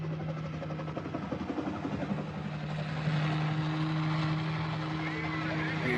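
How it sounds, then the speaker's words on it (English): A helicopter in an old horror film drones with a steady low rotor hum and thrum that swells slightly partway through, heard under a person talking over the film. "helicopter."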